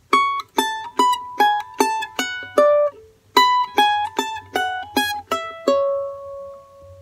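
A charango plucks a short melodic phrase from Alma Llanera, bright repeated notes in a quick rhythm, pausing briefly before a second run that ends on a ringing note.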